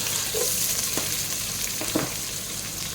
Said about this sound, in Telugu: దీన్ని బాగా ఫ్రై చేసుకోవాలి, గోల్డెన్ బ్రౌన్ వచ్చే వరకు